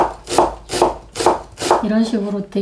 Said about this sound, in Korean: 본인이 쓸 수 있는 최대한 얇은 얇게 이제 양파를 썰어야 돼요